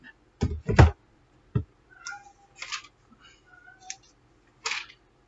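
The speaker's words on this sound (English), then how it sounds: "That noise you hear is my cat." Several short cat meows scattered among sharp clicks and knocks, each brief with pauses between, nearby and moderately loud.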